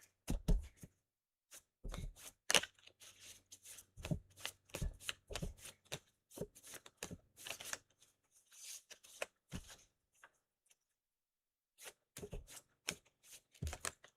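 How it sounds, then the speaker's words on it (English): Tarot cards being shuffled in quick, uneven bursts of riffling and slapping, close and clear, with short pauses between rounds. "I am not shuffling too well."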